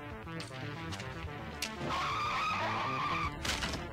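A car skids with a long, loud tire squeal in a chase scene from the 1984 film The Terminator, amid engine noise and screeching, with no talking.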